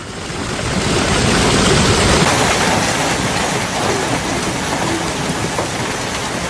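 Heavy rain pours down in a dense, loud, steady roar during an Oklahoma hail storm, intense wind pushing it sideways.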